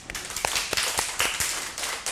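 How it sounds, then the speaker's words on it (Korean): Brief burst of audience applause at a Buddhist lecture hall during a Diamond Sutra dharma talk, scattered claps with sharp transient hits over about two seconds, moderately close with no talk over it. "우리 자기 자신한테 내가 이런 훌륭한 좋은 기회를 법의 인연을 만난 것에 대해서 감사의 박수를"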